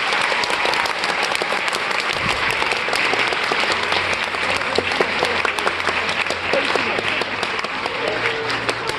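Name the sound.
audience applause for the staff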